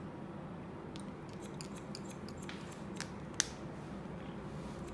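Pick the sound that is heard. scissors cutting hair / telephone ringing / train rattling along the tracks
scissors cutting hair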